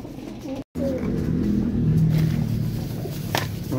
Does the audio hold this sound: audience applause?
no